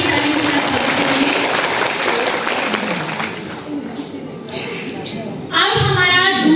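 Audience applause at a women's empowerment stage event in India, a steady wash of clapping from a crowd that carries on for several seconds and then fades, with a voice coming in at the end.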